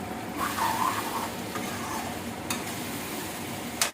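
Chunks of potato go into a pan of sizzling onions for an Assamese duck curry, giving a steady close frying hiss with a stir and light clinks of a utensil against the pan.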